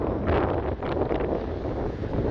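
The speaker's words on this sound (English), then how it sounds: "It's still really windy." Strong wind buffets the microphone on a sandy beach along a marina-dotted coast in Greece, a steady loud roar lasting throughout with no voices heard.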